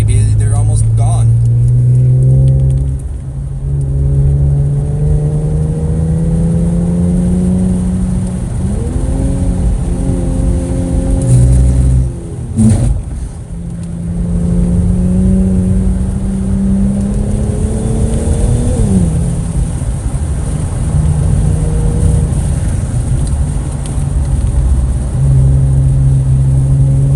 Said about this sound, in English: Turbo spooling up loud.